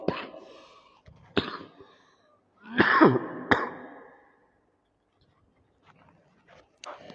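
Several sharp coughs from someone who is unwell break out close by, a couple single barks followed by a rougher cluster, then quiet with faint sounds near the end.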